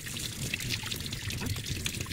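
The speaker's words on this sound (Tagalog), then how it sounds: "Tapos, huhugasan natin." Water pours steadily over a papaya being washed, a continuous close splashing trickle with no speech.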